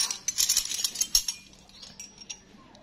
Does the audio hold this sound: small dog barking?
no